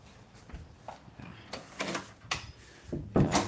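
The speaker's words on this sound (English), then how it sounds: "Just wanna close this door." An indoor door is pushed shut, giving a few soft wooden knocks and scrapes that build to a firmer thud at the end, fairly quiet and close, with no talking.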